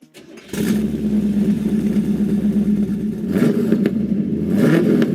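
A 1976 Pontiac Trans Am engine runs through a 2.5-inch crossflow exhaust, starting up into a loud close burbling idle, then revving up twice in rising surges, with no talking.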